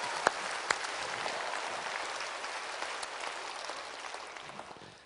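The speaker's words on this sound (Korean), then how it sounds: "미치라는 말에 박수 칠지는 몰랐어요" A church congregation applauding during a sermon, sustained clapping with a few sharp nearby claps standing out early, gradually tapering off with no talk.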